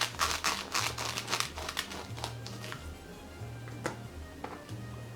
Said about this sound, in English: I'm just going to take my scissors and make a hole here in the bottom